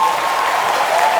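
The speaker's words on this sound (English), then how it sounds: "Huge round of applause for Karan Johar." A crowd claps loudly and steadily, a dense wash of applause with no pauses.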